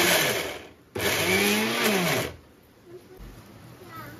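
A mixer grinder whirs loudly for about a second and a half as it grinds green chilli, cumin and salt into a paste, then cuts off, leaving quieter room sound.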